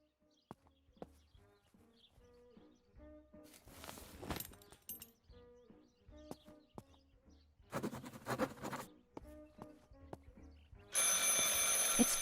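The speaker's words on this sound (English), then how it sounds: "I could pick up the phone and listen to their conversation" An in-game telephone rings in a family home in Martha Is Dead, its bell sounding in several spaced bursts amid footsteps and quiet room ambience, ending in a loud burst of noise.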